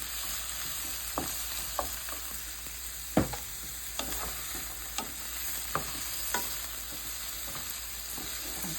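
Vegetables sauté in a pan for a vegetarian bean chili, a soft steady sizzle broken by scattered sharp clicks and scrapes of stirring, close and fairly quiet.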